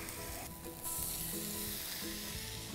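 Ribeye steak sizzling on a grill pan, a steady, fairly quiet hiss and crackle with occasional stirring or shifting sounds, no talking.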